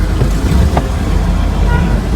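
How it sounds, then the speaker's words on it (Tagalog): Heavy road traffic with many vehicles outside NUST, a steady loud roadway rumble and engine hum with a brief passing swell, close and continuous. "Napakaraming sasakyan dito"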